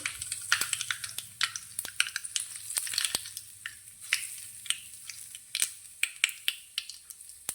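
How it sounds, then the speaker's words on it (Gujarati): Hot oil tempering with mustard and white sesame seeds is poured over spinach patra, giving sharp, irregular crackles and pops over a faint sizzle, close and without talk. "પહેલા વઘારને આપણે"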